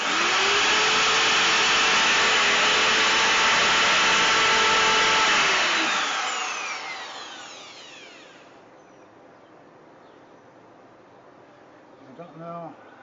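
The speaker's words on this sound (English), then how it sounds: "what I'm going to do here is drill a hole near the top of each one of these" A power drill whines loudly as it bores a hole, then spins down and fades, leaving near silence with a faint voice at the end.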